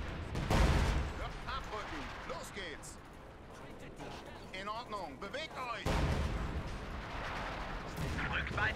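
Anti-tank guns fire in Company of Heroes 2, with sharp bursts of battlefield gunfire and explosions under continuous talk from several players commenting on the match.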